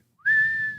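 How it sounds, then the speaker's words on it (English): A single clear whistled tone rises briefly, then holds a steady, loud pitch for about half a second, close to the microphone, with faint low background noise beneath it. "Nice whistle."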